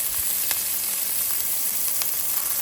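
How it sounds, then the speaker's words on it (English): Smashed garlic and rosemary sizzling in a hot pot on the stove for beef tenderloin, a steady close hiss of frying oil with faint crackles and no voices. "I'm just gonna throw it in the pot. I'm gonna get the rosemary in there."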